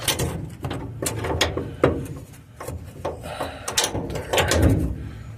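A socket wrench on a wobble extension ratchets in quick, irregular bursts of clicks while working on the rear bumper of a 2002 GMC Sierra, close and clear.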